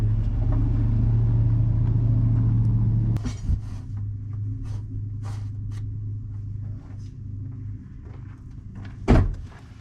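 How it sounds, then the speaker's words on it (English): Low, steady engine rumble of heavy vehicles paving a driveway outdoors, with a few thumps and clanks and a louder bang near the end. "Sorry about the vehicle noise, they're paving the driveway."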